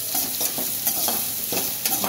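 Curry leaves, garlic and onions sizzle in oil in a pan for chilli paneer, with a spoon stirring and scraping in repeated close strokes over a steady frying hiss.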